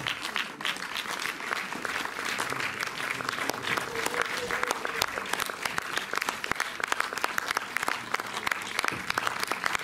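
Sustained applause from a large cinema audience, dense steady clapping filling the whole stretch with a faint murmur of voices underneath.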